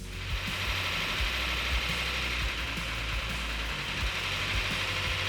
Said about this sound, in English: Little lifter noise.